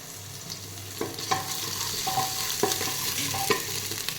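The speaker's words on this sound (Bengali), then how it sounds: "পেঁয়াজগুলো হয়ে যাওয়ার পরে এই আদা রসুনগুলো একটু ভেজে নিচ্ছি।" Ginger and garlic sizzle in oil in a pan after the onions, with a steady frying hiss and several scraping, clinking strokes of a spoon stirring, close and fairly loud, without talking.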